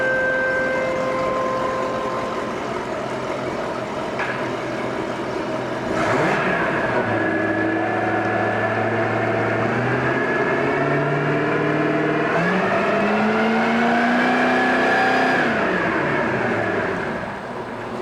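A 5.7L 300hp MPI V8 inboard engine in a 2000 StarCraft 1910 GT boat rumbles steadily and loud on standard exhaust, its pitch climbing and falling as it revs up several times, with harmonic tones sweeping upward.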